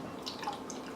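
Homemade oat milk dripping through a strainer, a soft close trickle of small drips and splashes over a low steady background, brief and fairly quiet.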